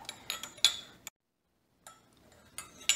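A spoon stirs a measured tablespoon and a half of fresh-squeezed lemon juice, giving a few light, sharp clinks, then a second of silence before more clinks and scrapes resume. No talking.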